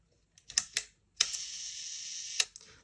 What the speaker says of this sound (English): the fact that the shutter works,